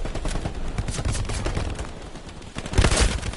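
Dense, rapid gunfire from the World War II shooter game Hell Let Loose, with loud overlapping bursts of rifle and machine-gun fire and a heavier cluster of shots near the end, no talking.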